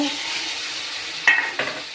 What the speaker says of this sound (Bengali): মশলা দিয়ে খুব ভালো করে কষিয়ে নেব